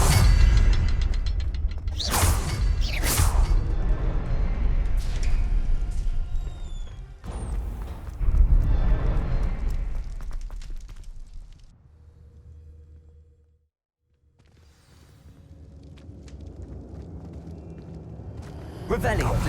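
A Confringo fire spell in Hogwarts Legacy bursts in heavy booms and whooshes, loud and close, over rumbling magical effects and a spoken voice, then fades to near silence before the ambience returns.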